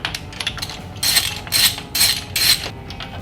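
A hand ratchet removes a spark plug from a 1984 VW Rabbit convertible engine with Bosch mechanical fuel injection, making faint clicking turns and then four distinct, louder ratcheting bursts in a steady rhythm.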